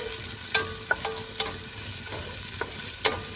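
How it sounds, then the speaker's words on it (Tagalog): Onions being stirred and sautéed in a pan while making sautéed pechay with sardines, a steady low sizzle broken by a few sharp clinks and scrapes of the utensil against the pan. "Lagay tayo ng sibuyas. Halu-haluin."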